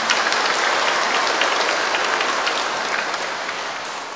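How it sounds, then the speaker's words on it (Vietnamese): A warm round of applause from the congregation at a church first communion Mass, dense sustained clapping from a large crowd, steady and loud before slowly tapering. "Chúng ta cùng cảm ơn cha Tuyên Úy, quý sơ, quý trưởng và những người yêu mến thiếu nhi của chúng ta bằng một tràng vỗ tay thật là nồng nhiệt."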